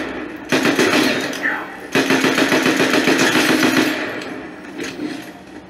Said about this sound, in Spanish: ¿Quién es el que me dispara?